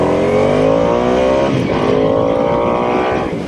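A Harley-Davidson Nightster Special, a 90-horsepower motorcycle, accelerating hard: a loud, close engine note climbs steadily in pitch through the revs as it pulls away, with no talking.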